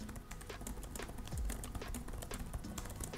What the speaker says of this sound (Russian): Клавиатура. Давай попробуем